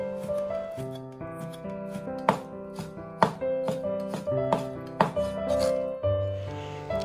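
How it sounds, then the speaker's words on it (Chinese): A knife chops pork foreleg meat cut into long strips on a board, giving irregular close thuds and scraping taps, some sharper strikes, over soft background music. "先改刀切成长条，然后给它切碎"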